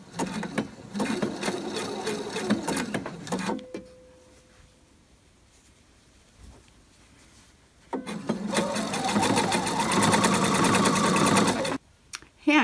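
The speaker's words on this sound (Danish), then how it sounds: "Den ligger hernede på overlocken, og den lille trekantede spids, den får lige fat i folden her" Overlock sewing machine stitching along a fabric fold, two loud, close bursts of fast whirring stitching separated by a quiet pause with a faint hum.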